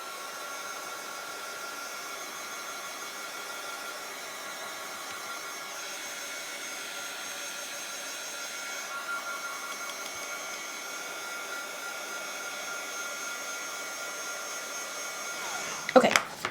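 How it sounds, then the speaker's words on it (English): A heat gun drying paint on a handmade card gives a steady, fairly quiet airy whoosh that runs unbroken throughout, ending with a few handling knocks. "I'm going to grab and turn on just my heat gun here, and we'll get this to dry really quickly"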